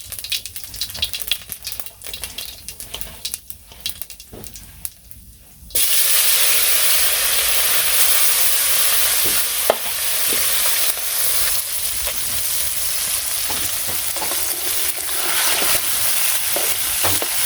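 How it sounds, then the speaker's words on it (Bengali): Small fish hit a hot wok with cumin, ginger and coriander in a village kitchen, and a loud, steady sizzle bursts in after a quiet start, then holds with occasional spits and pops. "ছোট মাছ ভাজতে গেলে খুবই ভালো করে কড়াইটা গরম করে নিতে হয়"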